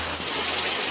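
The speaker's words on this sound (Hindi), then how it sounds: "बहुत तेज बारिश स्टार्ट हो गई है" Heavy rain pouring down outdoors at night, a dense steady hiss of water falling on surfaces, close and continuous with no break.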